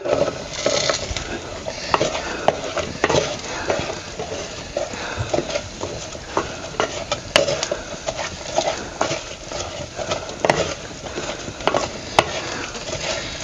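Drumstick pods tossed into a sizzling oil tempering and stirred in a pot over a traditional wood-fired clay stove: irregular clattering stirs and scrapes over a low frying hiss, close by.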